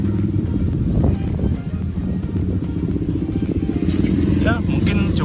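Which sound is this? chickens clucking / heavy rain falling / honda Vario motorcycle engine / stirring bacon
honda Vario motorcycle engine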